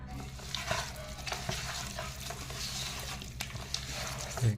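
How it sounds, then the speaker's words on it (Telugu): A spoonful of ginger garlic paste frying in a spoon of oil and stirred for chicken dum biryani: a soft, steady sizzle with light stirring and scraping, fairly quiet and close. "టూ మినిట్స్ బాగా కలుపుకోవాలి అల్లం వెల్లిపాయ వన్ స్పూన్ అల్లం వెల్లిపాయ వేసినాం వన్ స్పూన్ ఆయిల్"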